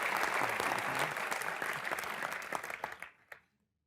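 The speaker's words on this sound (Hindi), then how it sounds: "आपका बहुत बहुत स्वागत है, जोरदार तालियां एक बार।" A studio audience at a Hindi comedy show breaks into loud, sustained applause that fades out over the last second.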